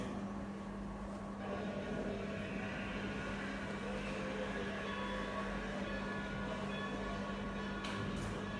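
A train moving, heard as a low steady rumble with a constant hum, fairly faint and unbroken throughout.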